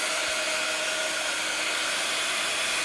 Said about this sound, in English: Right, so now let's dry that off a little bit.